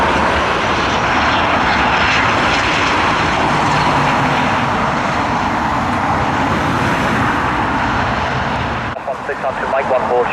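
Airliner jet engines roar loud and steady at Dublin Airport during heavy arrivals of Boeing 777, 757, 787 and Airbus A330 jets, a broad continuous rumble that drops off sharply near the end.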